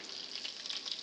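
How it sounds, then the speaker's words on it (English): Bacon fat hissing and sizzling in a hot pan while being drained off for bacon and leek soup, a steady close crackle with no voices. "now we're going to drain some of this fat off of the bacon"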